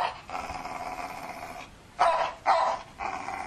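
A dog in the animated Minecraft-style series space-craft growls steadily, then breaks into two loud barks followed by more growling.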